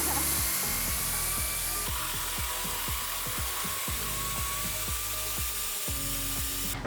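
A ratcheting socket wrench with an 18mm socket clicks rapidly and repeatedly while loosening the rear shock bolts on a Ford F250, close and steady over a hissing background.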